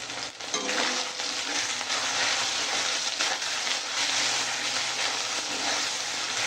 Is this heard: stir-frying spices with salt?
yes